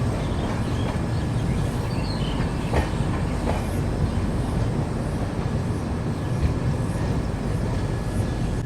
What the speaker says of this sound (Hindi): बैंकर लोकोमोटिव लगने के बाद अभी फाइनली हम लोग यहाँ से निकल रहे हैं